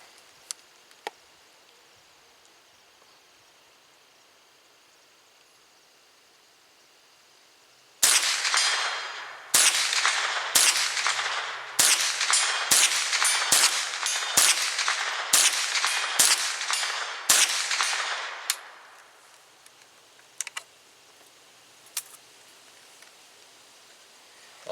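A Ruger 10/22 semi-automatic .22 rifle fires at a far target, giving about a dozen sharp cracks in a fairly steady rhythm, loud and close, with quiet before and after.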